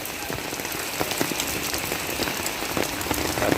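Steady rain pours down at night during a flood in Ubon province, Thailand, a dense, continuous patter of drops hitting surfaces close by, with occasional louder splashes and no voices.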